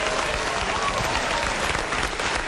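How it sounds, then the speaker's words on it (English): Studio audience at a trashy daytime talk show bursts into dense, steady applause mixed with cheering, loud and sustained throughout with no gaps. "Why is the crowd cheering at that?"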